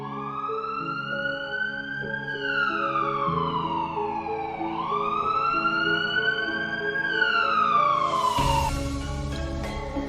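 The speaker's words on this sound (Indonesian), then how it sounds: "sirine ambulan terdengar nyaring." An ambulance siren wails loudly in long rising and falling sweeps, close by, with a burst of broadband noise near the end.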